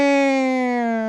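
A voice imitates a hurricane siren, producing one sustained, steady wailing tone that sinks slightly in pitch over about a second, loud and alone.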